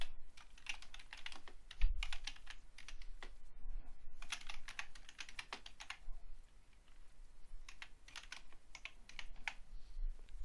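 Quiet typing on a computer keyboard while entering numbers into an Excel spreadsheet, rapid clusters of soft key clicks separated by short pauses, close and faint.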